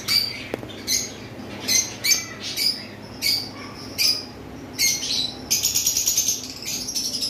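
Caged green Fischer's lovebirds in a pet shop give sharp, repeated squawks and chirps in irregular bursts, nearby, with a quick run of chattering calls near the end.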